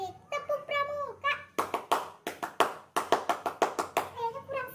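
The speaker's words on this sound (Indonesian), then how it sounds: "Ya baik, tepuk pramuka." Children doing the Pramuka scout clap, chanting in unison between sharp, rhythmic bursts of group hand claps, close and crisp in a patterned sequence with short pauses.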